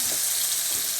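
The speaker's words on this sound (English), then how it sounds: "You're going to brown the turkey." Ground turkey browning in a pot, a steady close sizzle and hiss of frying meat with faint stirring bumps underneath, no voices.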